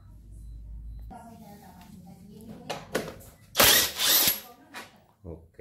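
Socket wrench working a bolt on the air filter box of a Yamaha Aerox 155 scooter, giving a few short metallic ratchet and clicking bursts, loudest near the middle, with handling noises around them.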